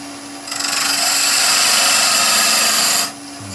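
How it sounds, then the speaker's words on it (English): A parting tool cuts into a spinning wooden piece on a lathe, a loud steady close hiss and whir lasting a few seconds before stopping abruptly, with a low motor hum underneath. "So let's just put a little mark in the parting tool."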